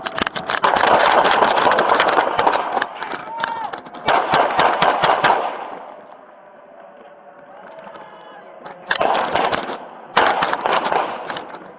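Bursts of rapid gunfire rattle loudly during a police shootout, two dense volleys up front, a quieter stretch with a running engine hum, then more close shots near the end.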